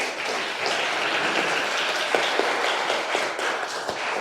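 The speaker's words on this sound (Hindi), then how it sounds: "आप सभी उनका तालियों के साथ स्वागत करें।" An audience claps steadily to welcome a speaker at a self-defence workshop held at a university science centre, a dense continuous patter of many hands with a few sharper claps, no voices over it.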